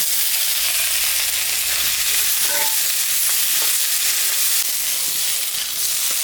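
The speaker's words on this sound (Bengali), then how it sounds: "আলুটা আমি একটু ভাজে নেব।" Boiled potatoes fry in hot oil in a kitchen pan, giving a loud, steady sizzle with occasional sharper crackles and faint stirring scrapes, heard alone without talk.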